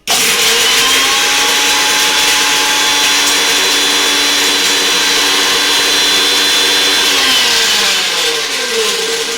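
A kitchen mixer grinds cashew nuts into a paste for chicken biryani. Its steady, loud motor whine runs almost unbroken and slows slightly near the end, with no voices over it.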